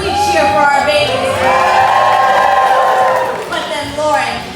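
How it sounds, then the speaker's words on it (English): A crowd of adults and children cheers and whoops loudly for babies in a crawling race aboard a Disney cruise ship, in sustained excited shouting that swells and then eases. "We cheer for our babies."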